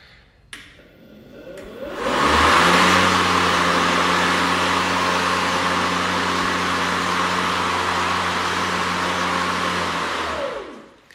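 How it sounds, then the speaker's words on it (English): A lawn mower starts up and runs steadily at a loud, even drone for several seconds before shutting down, heard alone without talking. "It is the quietest mower on the street on my block"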